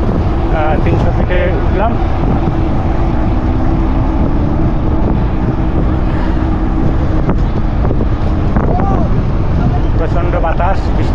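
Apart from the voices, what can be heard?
strong wind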